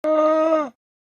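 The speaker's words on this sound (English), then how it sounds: "Alpaca." An alpaca gives one steady, tonal hum-like cry, clear and close, that holds for well under a second before fading out.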